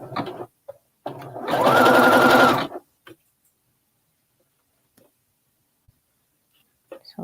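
A sewing machine runs a zigzag stitch on knit fabric in one loud, close burst of about a second, followed by near silence broken by a few small handling clicks.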